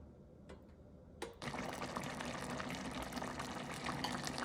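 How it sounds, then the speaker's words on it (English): Water coming to a boil in a pot on a stove set to maximum, with bow tie pasta to be cooked in it; after a quiet start, a steady, dense bubbling hiss rises and continues close by, with no talk. "So I'm gonna turn my stove on to max, and we're gonna wait for this to boil."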